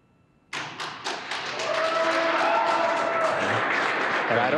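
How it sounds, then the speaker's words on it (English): Applause erupts in mission control after the SpaceX Crew-1 Dragon capsule Resilience splashes down, a sudden burst of clapping that swells and holds steady under faint broadcast tones. "You can hear the applause"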